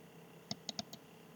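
Computer mouse clicks, roughly four quick, faint, crisp taps in close succession, over a quiet room hum with no talking.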